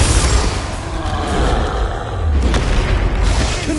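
A Confringo blasting spell from the Hogwarts Legacy video game bursts in a loud, continuous booming roar with rumbling low-end explosions that sustain across the whole stretch.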